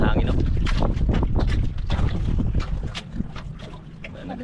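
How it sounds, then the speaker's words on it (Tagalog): Strong wind buffeting a microphone on a river during a boat fishing trip, loud broadband rumbling gusts that rise and fall throughout, with people talking over it. "Lakas ng hangin, no?"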